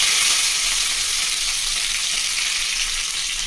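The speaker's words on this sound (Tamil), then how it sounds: "ஜீரகத்தை போட்டு வெடிச்சு பிறகு வெங்காயம், கருவேப்பிலை போட்டு வதக்கணும்." Steady, loud sizzling of onions, curry leaves and cumin frying in hot oil, a dense crackling hiss throughout with no talking.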